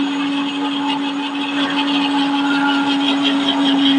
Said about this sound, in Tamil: நனைஞ்ச உடனே மிக்சியில போட்டு நல்லா மாவா அரைக்கணும்